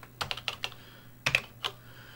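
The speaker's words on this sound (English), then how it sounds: "Oh, I hate you, CoCo keyboard." Keys clacking on a Tandy Color Computer (CoCo) keyboard in two short bursts of several sharp taps each, close and fairly quiet, with no voices.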